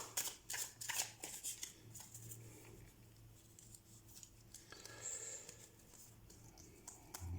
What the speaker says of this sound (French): J'utilise le tarot de Marseille et je fais un tirage en croix en 5 cartes.